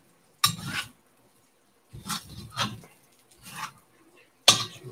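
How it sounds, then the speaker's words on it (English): Rice stir-frying in a pan, heard as several short, fairly close bursts of scraping and clattering with quiet gaps between them, likely a utensil stirring against the pan. "The rice is actually cooking and frying"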